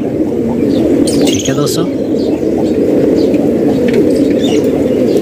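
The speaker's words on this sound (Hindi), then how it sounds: "माशाल्लाह काफ़ी सारे कचफरे कबूतर मौजूद हैं दोस्तों" A crowd of fancy pigeons coos steadily in a loft in Multan, with scattered chirps and brief wing flaps, as someone speaks briefly over them.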